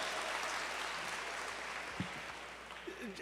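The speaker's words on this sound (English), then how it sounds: "Please give them a round of applause." An audience at a convention tribute event gives a round of applause, a steady, fairly quiet wash of clapping from a large crowd that carries on for a few seconds without letting up.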